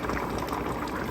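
Water poured into a simmering fish curry with tamarind gravy in a pot, a steady bubbling, rushing liquid sound filling the whole moment, with no talk.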